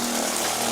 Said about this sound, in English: now I'll try sucking some water out of a jug, see if my winterizing kit works